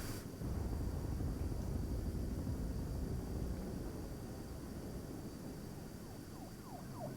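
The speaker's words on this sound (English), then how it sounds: "I hear helicopters flying by, but I don't see them." Helicopters fly by unseen in the video game Quantum Break, a steady, faint rotor-and-engine drone sustained across the whole stretch, with no talking.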